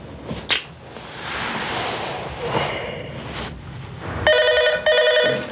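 Telephone bell ringing indoors at night, with clear repeated trilling rings near the end following a rush of background noise.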